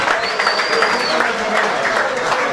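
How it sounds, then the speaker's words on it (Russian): Loud, dense applause from an audience at a sports awards ceremony, sustained and even throughout, with a faint whistle or voice rising above the clapping early on. "Бурные аплодисменты, товарищи."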